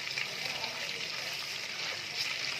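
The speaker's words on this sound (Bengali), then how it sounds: "ভেজে নিচ্ছি।" Whole spices and a few black peppercorns fry in oil in a pan for prawn pulao, giving a steady, close, even sizzle with no pauses and no talking.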